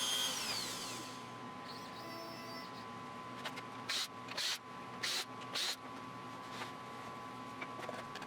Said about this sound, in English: the final step in this carve is to drill out all the holes for reinforcement dowels